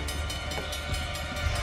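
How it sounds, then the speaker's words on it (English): A train draws closer in the video game Uncharted: The Lost Legacy, a steady rolling rumble with faint rhythmic rail clatter filling the short moment, no voices over it. "The train's getting closer."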